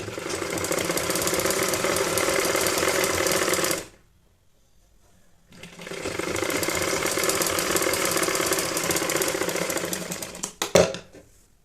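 A sewing machine stitches cloth for a baby nappy, running in a loud continuous whir, stopping for a couple of seconds, then resuming before ending with a few uneven clunks.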